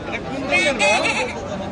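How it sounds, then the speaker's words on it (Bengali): A Kashmiri goat bleats a few wavering calls in the middle of a noisy crowd, with people chattering nearby throughout. "কাশ্মীরি ছাগল"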